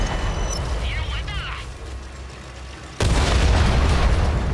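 A heavy artillery blast in a video game lands as a sudden loud boom that erupts into sustained rumbling roar, following quieter mechanical clatter and brief chatter.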